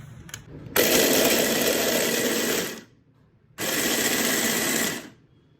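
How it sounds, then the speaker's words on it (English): A food processor grinds a falafel mixture in two loud, close bursts of whirring, about two seconds and then a second and a half long, with a short pause between them. "this is my food processor and the quantity is much, so I'm going to grind it turn by turn"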